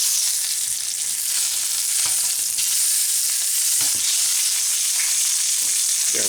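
Sous vide pork chops sear in a hot pan, giving a steady, loud sizzle with crackling spits and pops throughout, close up and with no one talking.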